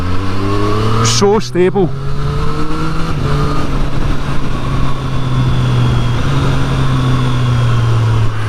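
A 2023 Triumph Street Triple R motorcycle hums along at a steady low engine drone while being ridden, with wind rush around it and someone talking over the top.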